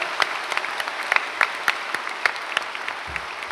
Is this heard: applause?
yes